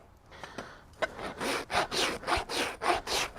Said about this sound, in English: Now, going around, I don't push too hard with my rasp. Got a really nice flat surface coming.